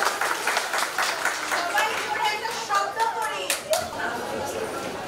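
An audience at an entrepreneurs' gathering applauding, a dense continuous patter of clapping close by, with chatter and children's voices mixed in.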